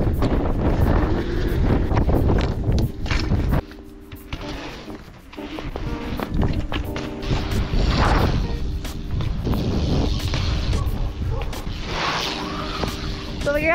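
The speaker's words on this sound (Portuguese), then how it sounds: "Está mesmo muito vento." Strong gusts batter the microphone outdoors at Figueira da Foz, loud rumbling buffets that rise and fall throughout, with brief sharp knocks and voices mixed in.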